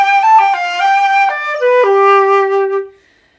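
A flute plays a short run of clear, strong, steady notes stepping downward, ending on a held low tone that fades out, with no other sound around it.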